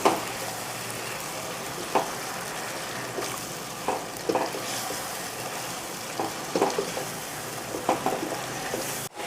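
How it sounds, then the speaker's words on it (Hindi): Chicken karahi frying with cream in a pan, a continuous close crackling sizzle broken by regular scrapes and clinks of stirring, without talk. "मैंने क्रीम डाल के अच्छे से भून लिया है"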